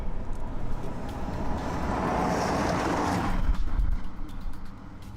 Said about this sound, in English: And here comes another car.